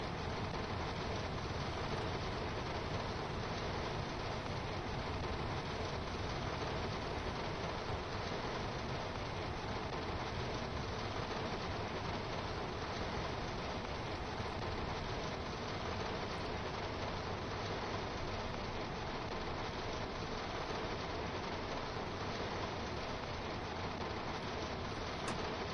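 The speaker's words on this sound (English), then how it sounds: "the noise of the rain on the train" Steady rain drums on a train in a PS5 train-driving game, a dense continuous hiss that runs unbroken and fairly loud throughout, masking any engine sound.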